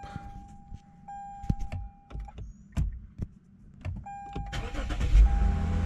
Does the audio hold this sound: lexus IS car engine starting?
yes